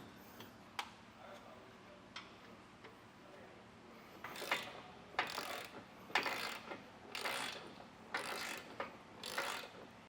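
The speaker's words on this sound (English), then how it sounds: "then we will start to tighten up the bolts to kind of suck the hitch up and the bumper support up" Ratchet wrench clicking while tightening the bolts on an EcoHitch hidden trailer hitch receiver and bumper support on a 2016 Mazda, starting as faint sparse ticks, then becoming louder repeated bursts of rapid clicking in the second half.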